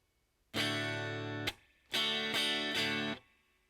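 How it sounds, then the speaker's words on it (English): Strummed acoustic guitar chords from the fourth string down ring out close by, a long strum followed by a quick rhythmic group of three more. "I'm strumming from the 4th string down"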